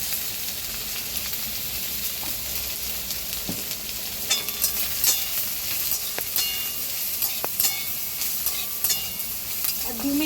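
Capsicum frying in a pan with a steady, close sizzle, repeatedly stirred with sharp scraping clicks, for mixed fried rice.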